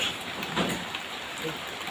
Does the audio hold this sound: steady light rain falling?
yes